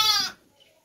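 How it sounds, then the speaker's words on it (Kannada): A young native Natti Kuri sheep, a lamb of a few months on a sheep farm near Mysore, gives one short close bleat that fades into near silence. "ಇಷ್ಟು ಕುರಿಗಳು ನೋಡಿ, ಇದೆಲ್ಲ ಸಣ್ಣ ಕುರಿಗಳು."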